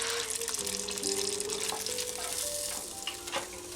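Fish frying in an electric 4-litre deep fryer gives a steady, moderately quiet sizzle and bubbling with faint tonal hums underneath.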